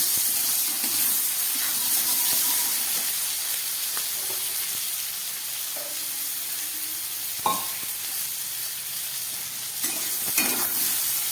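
Chopped tomato fries in a hot pan with a continuous sizzling hiss, punctuated by the scrape and clatter of stirring at close range.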